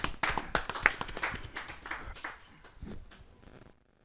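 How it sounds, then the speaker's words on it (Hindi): An audience at a Hindi poetry gathering claps to welcome a poet, brisk scattered handclaps that start strong and gradually thin out and fade to silence. "जरा जोरदार ताली के साथ हम उनका स्वागत करें।"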